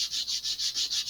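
Sandpaper rubs back and forth on the wooden tip of an Estes Black Brant XII model rocket part, with quick, even strokes, about five per second, close and soft, and no talk.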